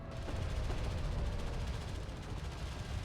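Rapid Gatling cannon fire from vehicles in the desert strategy game Homeworld: Deserts of Kharak, a dense continuous burst of gunfire that holds steady and loud for the whole stretch, with no pauses between rounds.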